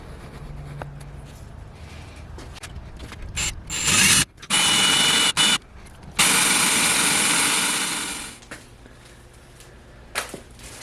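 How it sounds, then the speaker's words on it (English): A 1/8 inch drill bit grinds through steel knife stock in loud sustained bursts, stopping and starting, with a long steady whine near the end before quieting. "we are going to drill through with 1/8 inch drill bit"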